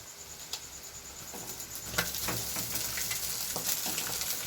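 Cooked rice tipped into a pan of half-cooked vegetable pieces and capsicum for fish fried rice, giving a steady close sizzle and frying crackle with soft scattered pats and stirring scrapes throughout.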